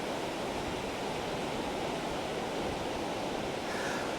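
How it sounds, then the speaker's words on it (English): Ocean surf and breeze on the beach at Long Beach, Washington, make a continuous, even wash of rushing noise under partially overcast, breezy conditions, steady and fairly faint throughout, with no voices. "you can look at the waves and so forth and see we're in pretty breezy conditions"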